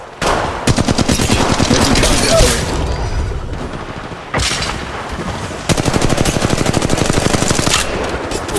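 Rapid automatic gunfire in the Apex Legends Mobile video game: loud, dense bursts rattle almost continuously, with a short lull near the middle before another sustained volley.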